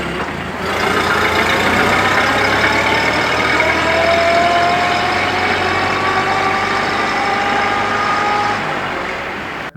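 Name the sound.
1930 Ford Model A transmission running with gear whine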